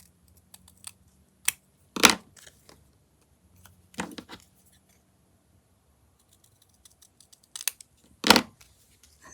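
Scissors cutting paper indoors, a few quiet, brief snips and crisp rustles separated by pauses of near silence.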